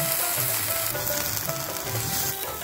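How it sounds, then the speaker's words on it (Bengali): Chapa dried fish sizzles in oil in a pan, a continuous close hiss and crackle with intermittent stirring scrapes throughout, heard alone. "এখন ভেজে নিব চাপা,"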